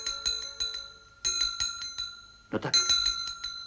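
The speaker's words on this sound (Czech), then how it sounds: "proč pak ten zvonek tak smutně cinká?" A small bell tinkles in repeated bright, glassy chimes at a steady rhythm, with a brief spoken phrase partway through.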